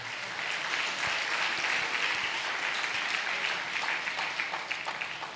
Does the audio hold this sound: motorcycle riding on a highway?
no